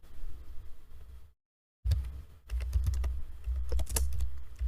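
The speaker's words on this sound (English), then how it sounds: "Just go ahead in the search bar and write Boston" A computer keyboard typing out a search query, with steady, rapid, close key clicks broken by one short pause.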